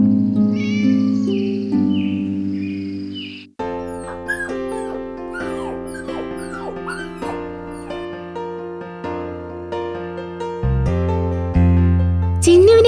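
A cartoon kitten meows repeatedly in close, clear, sing-song cries, with a few high whimpering yips mixed among the meows.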